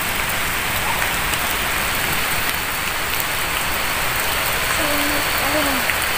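Steady heavy rain pouring onto surfaces after prayer, a dense continuous hiss close around, with a faint bird-like chirp near the end and no talking.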